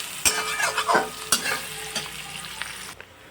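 Onions sautéing in oil in a pan for a street-style tawa pulao, a close sizzle broken by a few scraping stirs of a spatula, before the sound cuts off sharply near the end.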